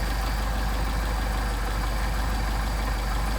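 A car engine idling steadily on the first barrel of a Solex carburettor with its throttle butterflies closed, a constant close-up mechanical hum with no talk.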